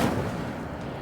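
Incendio fire spell cast in the video game Hogwarts Legacy, a brief, loud whooshing burst of flame with a low rumbling body that fades within a second.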